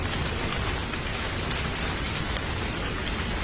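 Steady rain pours down continuously, a dense even hiss of drops striking surfaces all around, fairly loud and unbroken with no voices.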